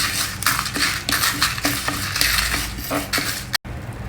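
Dals, fenugreek and dry red chillies dry-roast in a pan while a metal spoon scrapes and stirs continuously, close up, with a light rattle against the pan and no talking.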